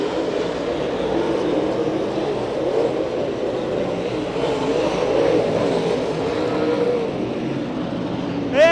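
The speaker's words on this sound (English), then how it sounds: "Lap number 7 of the first heat race for these late models" Late model race cars in a short-track heat race at Santa Maria Raceway, a continuous loud engine roar that swells and fades as cars pass, with a brief rising whine near the end.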